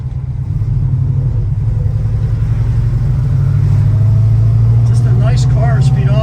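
A 1968 Plymouth Road Runner with a 4-speed manual and big tires runs smoothly while driving, its engine a steady, loud, close low rumble that rises slightly in pitch as it builds.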